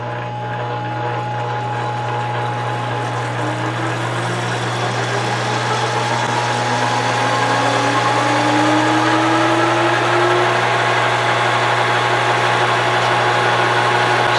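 Monarch 10EE lathe motor winds up steadily and loudly, a constant low hum joined by a slowly rising whine as it gains speed, with no talk.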